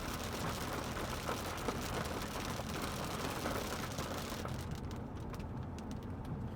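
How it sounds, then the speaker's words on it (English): Heavy rain pours down steadily, a dense continuous hiss close by that stays loud throughout, with scattered drop impacts and a faint low rumble beneath. "this rain's really coming down"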